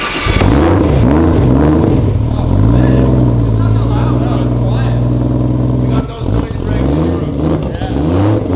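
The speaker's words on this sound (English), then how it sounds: "Revving it like that?" The engine of a Toyota AE86 revs up and down repeatedly, close and loud, with a steady idle between rises and a brief dip partway through.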